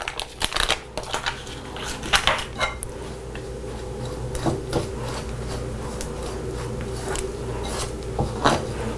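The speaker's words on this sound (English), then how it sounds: "as you keep just kind of jabbing into this mixture with the flour and the sugar and the butter" A metal whisk jabs repeatedly into butter mixed with flour, sugar and cinnamon, making close, uneven scraping and tapping strikes against a bowl that cluster early and continue sporadically throughout.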